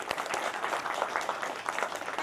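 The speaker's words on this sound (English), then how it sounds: "So give a very warm welcome, round of applause for Dr. Sunny Ware." A conference audience breaks into warm applause to welcome a speaker, a dense, continuous wash of many hands clapping close by, with no talking over it.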